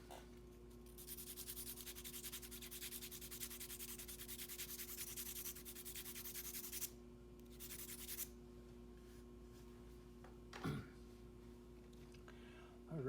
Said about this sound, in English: I'm going to sharpen up real quick